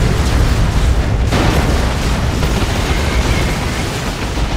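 Heavy turret fire in the game Dawn of War 2 comes through as a dense, loud, rumbling barrage of booming blasts and explosions that runs without a break over a battle din.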